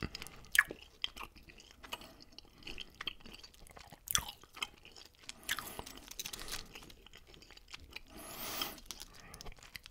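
Someone chewing Mentos chewing gum close up: soft wet chewing and occasional crunchy bites, quiet and irregular, with no talking.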